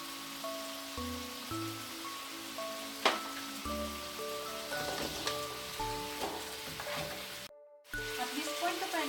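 Pork spare ribs and broccoli stir-fry in a pan, making a constant busy sizzle with occasional stirring scrapes and clatters over about nine seconds. Gentle background music plays underneath and no one speaks.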